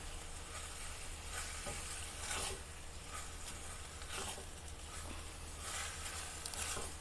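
Minced meat sizzles and fries in a pan, with a steady crackle and occasional scraping bursts as it is stirred; no voices.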